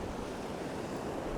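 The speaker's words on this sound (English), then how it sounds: "it's a touch blustery out here" Blustery wind at the seaside, a steady broadband roar of gusts and rough surf buffeting the microphone, loud and continuous throughout with no voices.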